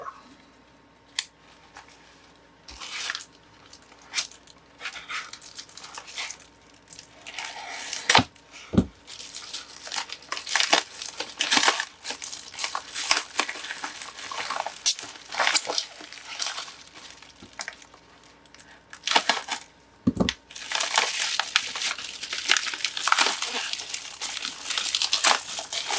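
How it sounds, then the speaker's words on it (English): Mail packages being opened and unwrapped, with close, loud bursts of crinkling and crumpling plastic and paper, tearing, and a few sharp snips or clicks, ongoing throughout with no talk. "Alright, time to open some packages."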